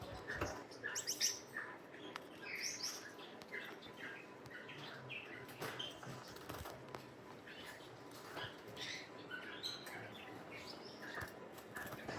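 A breeder pair of pet Gouldian finches chirps and tweets softly and quite distantly in a pet shop, with a steady scatter of small calls against faint background noise.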